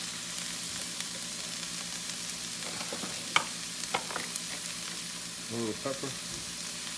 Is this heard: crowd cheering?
no